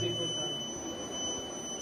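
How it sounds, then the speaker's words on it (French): A steady electronic alarm tone holds at one pitch throughout, moderately loud against a low background hum. "il y a une alarme, elle vient de s'arrêter à nouveau."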